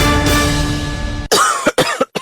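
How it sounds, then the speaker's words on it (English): A person coughs in a sleepless night: a sustained raspy hack followed by several sharp, close coughing bursts, loud and alone. "I can't sleep with this cough."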